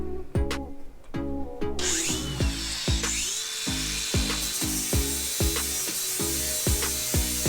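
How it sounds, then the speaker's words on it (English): An angle grinder strips rust from a 1968 Mustang with a harsh, whining grind that pulses in fast, regular strokes, loud and close, with no voices. "getting rid of this dust with the angle grinder"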